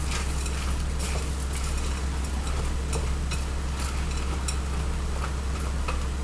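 Chocolate chips are stirred into grainy cookie dough in a bowl, giving repeated scraping clicks and ticks at an uneven rhythm over a constant low hum.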